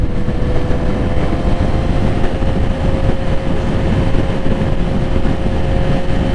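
A 2024 Suzuki GSX-R 1000 motorcycle ridden at speed gives a steady, loud roar of engine and rushing wind that runs unbroken from start to finish, with no talking.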